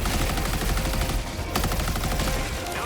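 Dense, continuous automatic gunfire from a gun in the video game Helldivers 2, a loud unbroken rattle of rapid shots that keeps going for nearly three seconds with only a brief dip partway through.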